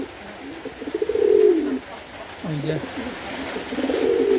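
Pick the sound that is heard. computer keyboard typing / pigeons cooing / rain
pigeons cooing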